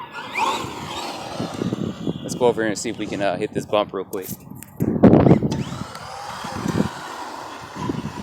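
A Traxxas Ford Fiesta ST Rally radio-controlled car on a 2S LiPo battery whirs and buzzes in high-pitched electric bursts as it drives over rough ground, rising and falling with the throttle while someone talks over it.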